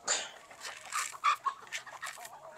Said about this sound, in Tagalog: mapapakain na kami sa aming mga manok